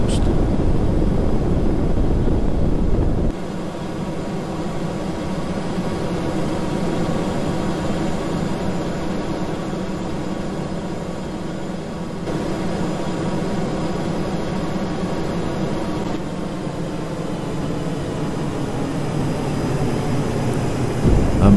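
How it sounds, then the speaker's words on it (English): A Space Shuttle flies in Kerbal Space Program, a steady, rushing roar of engines and air that holds at a constant level with small shifts in tone, while someone talks over it. "She flies very, very smoothly, and that's a nice flyby."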